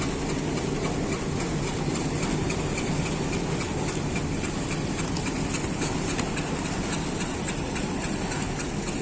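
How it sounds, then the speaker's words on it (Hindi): The Hazara Express of Pakistan Railways pulls into the platform at Lala Musa, a steady low rumble of engine and rolling coaches with faint rhythmic clatter, continuous and moderately loud. "वो सामने उसका अराइवल हो रहा है 12 डाउन हज़ारा एक्सप्रेस"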